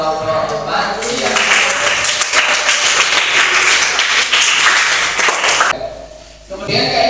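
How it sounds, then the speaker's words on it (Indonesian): Classroom applause for a student group during a lesson at an Indonesian school, a dense burst of many hands clapping together for about five seconds before fading, with voices talking around it. "Tepuk tangan untuk kelompok 4."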